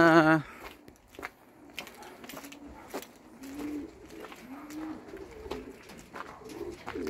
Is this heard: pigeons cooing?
yes